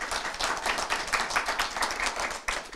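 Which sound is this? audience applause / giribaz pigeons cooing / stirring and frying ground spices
audience applause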